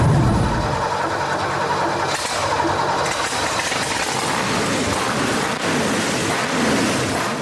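A truck engine, built up in a garage into a streetline-painting machine, starts for the first time with a loud initial burst that settles into a continuous heavy rumble and roar.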